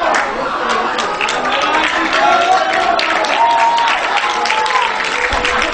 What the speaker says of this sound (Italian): finalmente scrocciano gli applausi al Maro Simone